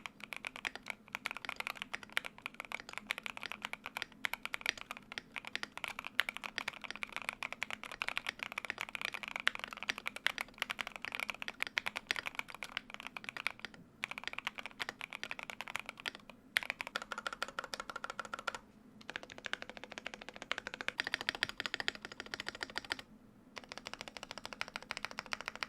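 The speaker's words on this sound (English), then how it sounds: "So yes, this is the M3 and here's how it sounds." Typing on an M3 mechanical keyboard, a fast, continuous run of close, crisp key clicks and clacks with brief pauses and slight bursts of rhythm, heard alone without talk.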